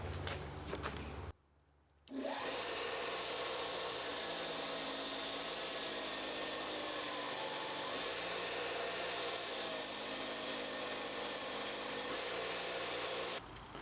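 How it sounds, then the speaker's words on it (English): A wire wheel on a power tool whirs continuously with a harsh grinding scrape against a rusty axe head, pausing once briefly near the start before resuming steadily and loudly. "I'm going to go ahead and hit it with my wire wheel"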